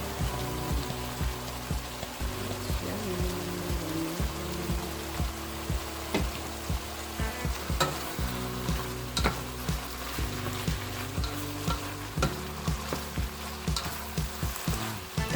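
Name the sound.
carrots frying in hot oil for igado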